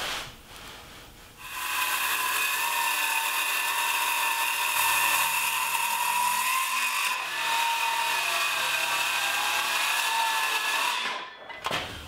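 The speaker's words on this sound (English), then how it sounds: "I'll do that first by trimming to the line with the circular saw" Circular saw trimming a solid cherry wood tabletop to a line, a high steady whine starting after a short lead-in, loud and close for about ten seconds before spinning down abruptly.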